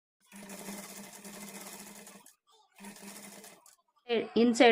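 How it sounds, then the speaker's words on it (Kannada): Sewing machine running in two steady bursts while stitching a hemming strip onto a blouse edge, close and even-paced, followed by a brief voice at the end. "ಎಡ್ಜ್ಗೆ ಕಿನಾರಿ ಸ್ಟಿಚ್ ಹಾಕ್ಕೊಳ್ತಾ ಬರಬೇಕು"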